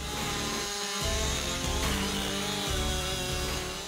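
A Stihl MS881 chainsaw cuts through wood, its engine snarling loud and close with a high buzzing whine that bogs briefly and rises again under load, continuous across the whole stretch.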